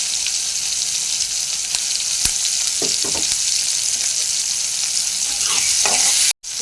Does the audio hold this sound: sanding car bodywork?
no